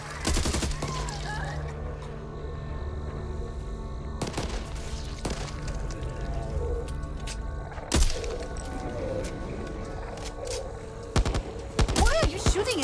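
Gunfire in the video game Back 4 Blood: repeated rapid bursts and sharp shots with thuds and crashes, loud and continuous throughout, mixed with in-game effects.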